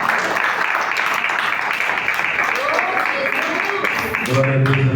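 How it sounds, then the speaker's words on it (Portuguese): A Pentecostal church congregation claps and cheers together in a loud, steady wash of applause, with voices calling out over it and a voice rising near the end. "Vamos receber o nosso pastor Arthur com palmas."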